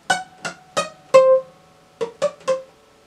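Seven short plucked electric guitar notes, heavily palm-muted and clipped, forming the halting Among Us theme melody with a brief pause in the middle, alone and close.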